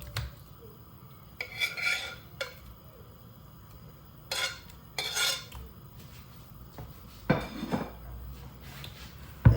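Ingredients for fried calamari are mixed in a bowl: quiet scraping and stirring broken by scattered clinks of utensil against the bowl, in irregular bursts with pauses between.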